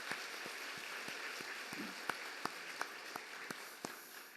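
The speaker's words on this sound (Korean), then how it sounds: "하나님께 박수로 영광 드리겠습니다" A congregation applauding in church during a New Year's Eve service, a soft distant wash of clapping with a few sharper individual claps standing out, fairly faint and steady.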